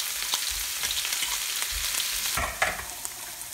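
Crushed ginger, garlic and green chili sizzle in hot oil for a Kerala chicken dum biryani, a close, steady frying hiss broken by occasional stirring scrapes against the pan.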